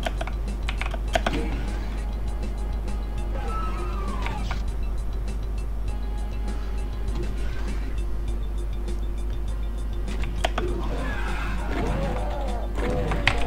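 Computer keyboard keys tapped in rapid, steady clusters during a session of Ultimate Doom, the clacks running throughout under game effects and occasional talk.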